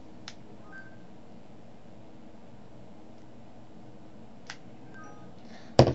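Phone keypad tones sound as two short, faint beeps several seconds apart over quiet room hiss, then a louder clatter or rustle right at the end.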